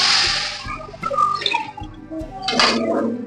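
Water splashes and gurgles into a metal pot of ginger-garlic paste in short pours, with a clink of cookware, close by.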